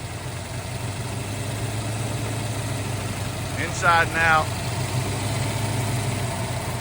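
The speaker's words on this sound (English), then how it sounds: "this one's coming down to idle pretty quick for a Boss 429" A 1970 Ford Mustang Boss 429 idles steadily with solid lifters, its low engine drone running throughout while someone speaks briefly over it partway through.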